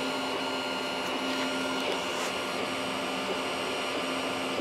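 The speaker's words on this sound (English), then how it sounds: "part cooling fan kicked on, first layer" A Sovol SV01 3D printer lays down the first layer of PLA with its part cooling fan running, giving a steady, loud whir and hum that holds throughout with a constant tonal drone and no talk.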